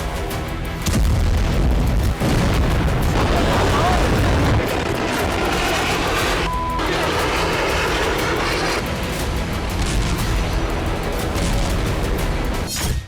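Phosphorus bomb blasts from airstrikes on Gaza produce loud, continuous rumbling booms and heavy roaring that fill the whole stretch with dense, sustained noise close at hand.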